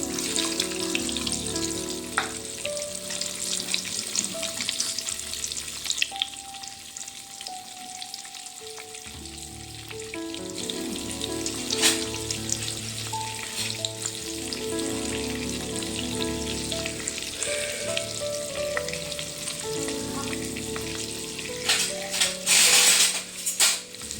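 Eggs fry with turmeric in an oiled pan, a steady close sizzle and crackle with occasional scraping and clinking of a spatula against the metal.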